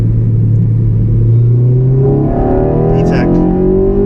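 A 2009 Honda Civic Si engine pulls hard in second gear, its loud, close drone rising steadily in pitch as it revs into VTEC from inside the car.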